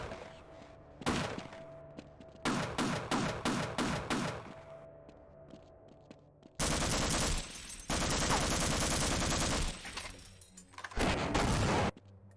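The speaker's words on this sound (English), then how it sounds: "I can dodge the machine gun fire and shoot the guy behind cover" Machine gun fire in the Half-Life video game: dense bursts of rapid automatic shots in rhythmic volleys, then long sustained loud streams of gunfire, close and harsh, with no talking.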